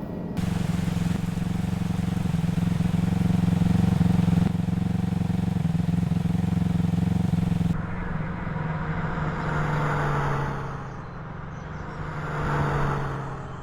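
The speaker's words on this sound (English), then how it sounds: "the sounds of the bike and cars are even modelled" Simulated motorbike and car engines drone at a Thruxton aerodrome training circuit in a flight simulator, a steady low hum that cuts off abruptly partway through and gives way to a fainter, rising and falling engine whine.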